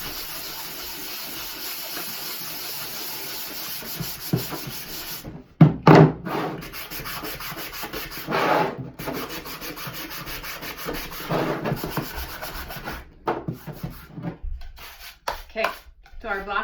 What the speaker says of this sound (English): make sure that when you sand this, you're doing a good job on the outside and the inside of the block